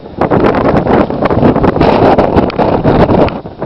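Strong wind buffets a microphone in a heavy snowstorm during a major blizzard with gusts near 40, giving a loud, steady roar with rough gusty crackle and no voices.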